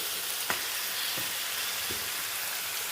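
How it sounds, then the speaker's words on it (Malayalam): Chicken pieces frying in a pan for pepper chicken, a steady close sizzle with a couple of soft stirring knocks. "അപ്പം നമുക്ക് ചിക്കൻ പീസസ് ഇട്ട് കൊടുക്കാം."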